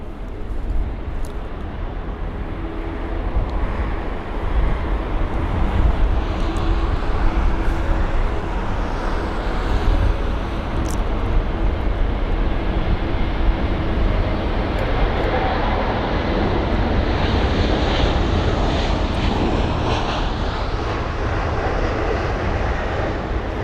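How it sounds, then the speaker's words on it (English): A Lufthansa airliner in its old livery passes at Heathrow, its jet engines a sustained, fairly loud roar that swells and holds over distant traffic hum. "the Lufthansa flight here with the old livery as well"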